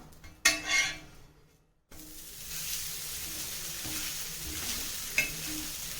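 A dosa roasts on a hot pan: a brief clatter and scrape as it is turned, then a continuous, fairly loud sizzle with small utensil taps.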